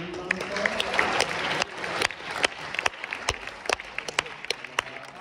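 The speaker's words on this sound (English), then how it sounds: "Give him a round of applause" Audience at a high school track and field banquet gives a round of applause for a coach, a dense wash of clapping that thins into scattered, separate claps toward the end.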